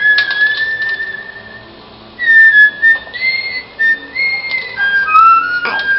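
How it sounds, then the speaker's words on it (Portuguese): A mobile phone plays repeated whistled tones to teach a young fish-eating pet bird to whistle; clear, fairly loud rising and falling whistles come in short bursts with gaps, with no talking. "Esse é o celular que tá assobiando pra ele aprender a assobiar."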